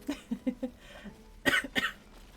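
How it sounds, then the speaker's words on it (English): A person coughs several times in quick short bursts, close to the microphone, ending with two harsher, louder coughs. "I will be coughing a little bit"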